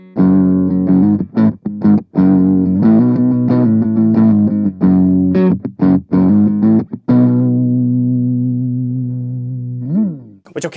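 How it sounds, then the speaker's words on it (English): A Boss Katana Mini X electric guitar amp with an octave, ring-modulator-like effect plays loud sustained distorted notes and choppy stabs, ending in a held tone with a pitch wobble. "It's almost kind of like a ring modulator sort of sound there, and it does also have an octave in it"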